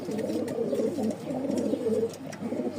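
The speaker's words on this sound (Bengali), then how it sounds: "এই দেখেন লাহোরি মাদিটা ছেড়ে দিলাম, এবার নরের উড়াধুরা ডাক দেখাই।" A male Lahori pigeon coos close by in a continuous run of low, throaty, rolling calls that pulse steadily with no pause.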